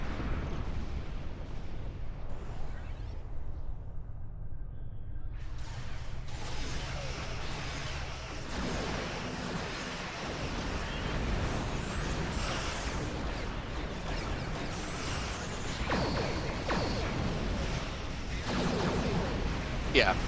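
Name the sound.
exploding enemies in the video game Star Trek Online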